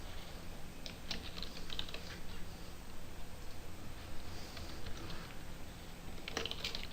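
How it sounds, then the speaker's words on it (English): Quiet, steady clicking of keys on a computer keyboard while entering data-analysis values into SPSS, a soft irregular patter running throughout with a few sharper taps, no one talking. "So I've typed in for SPSS that they know 1 means very unsatisfied all the way out to 5 being very satisfied"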